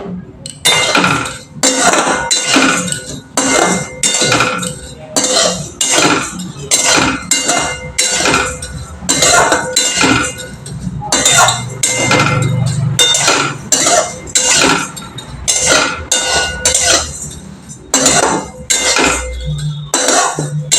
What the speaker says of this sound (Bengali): সিমুইটা ভালো করে ভেজে নিতে হবে